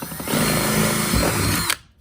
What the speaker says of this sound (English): I'm gonna drill that.